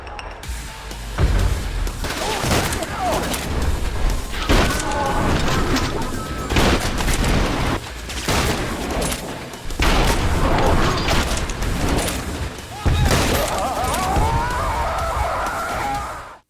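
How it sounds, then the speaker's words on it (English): Shotgun blasts in a boomer shooter video game, loud booming shots fired every second or two among crashes and other game noise, with no talk. "this is the best shotgun ever created in any game"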